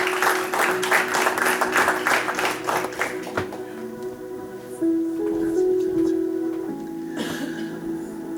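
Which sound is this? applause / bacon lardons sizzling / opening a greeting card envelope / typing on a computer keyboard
applause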